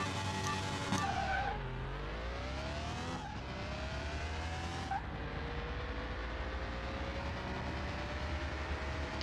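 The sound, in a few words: 1961 Jaguar E-type engine launching at a drag race, in a video game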